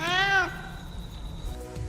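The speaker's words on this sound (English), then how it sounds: "the name of Natasha's cat, Lenore" A house cat gives a single short meow at the start, fairly close and clear, then fades into quiet room noise with a faint low rumble.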